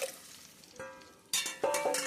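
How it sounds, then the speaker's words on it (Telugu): Tamarind juice is poured into a hot pan of pachipulusu after the stove is switched off, setting off quiet bursts of sizzling and frying that come in two sharper surges, with no talking. "ఆఫ్ చేసినాక ఈ చింతపండు రసం ఉంది కదండి, అది పోసేసుకోవాలి"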